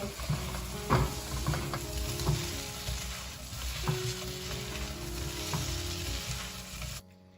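Shiitake mushrooms with red yeast rice, soy sauce, oyster sauce and salt are stir-fried in a pan, giving a close, steady sizzle with scraping strokes throughout before the sound cuts off abruptly.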